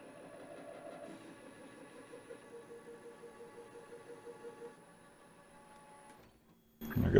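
A metal lathe cuts a thread relief with a grooving tool, giving a faint, steady mechanical whir with light rhythmic chatter that quiets near the end before a brief louder clatter.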